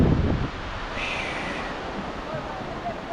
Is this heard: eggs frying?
no